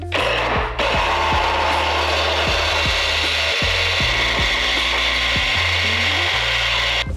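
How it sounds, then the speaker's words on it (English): A power drill bores through the sheet-metal body of a C35 Nissan Laurel, a loud steady grinding whine with repeated drops in motor pitch as the bit bites, running almost without a break until it cuts off at the end. "I'm gonna drill right through here."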